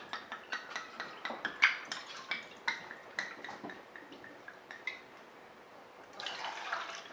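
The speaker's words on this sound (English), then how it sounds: "we're going to add a little dry white wine. My favorite is Pinot Grigio" Dry white Pinot Grigio poured into a pan sauce, a run of quick splashing drips and liquid trickles at moderate distance, ending in a brief louder burst of sizzle or splash, with no talking.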